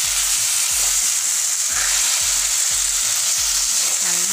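Chicken curry with potato frying in a pan, a steady loud sizzle with rhythmic scraping as a utensil stirs the pieces at a regular pace.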